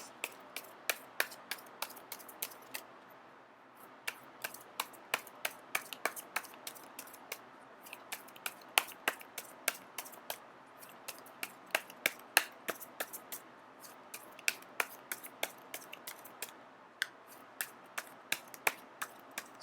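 Tarot cards being shuffled in quick crisp riffles and flicks, repeating steadily at close range with short pauses between bursts.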